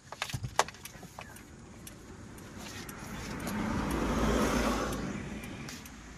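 Car keys jangle in a few quick metallic bursts near the start, close by, before fading into a steady hum of road traffic and passing vehicles.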